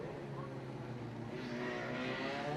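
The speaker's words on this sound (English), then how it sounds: "I thought I could hear a little bit of turbo whistle there" A Mazda RX-7 Turbo race car at a historic sprint meeting drones past with a steady engine note and faint rising turbo whistle, a commentator talking over it.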